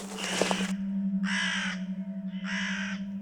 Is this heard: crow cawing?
yes